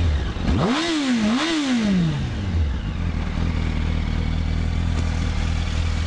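A 2005 Yamaha YZF R1 sport bike starts up close by, its engine swinging through two sharp revs that rise and fall, then settling into a steady, loud idle with no talking.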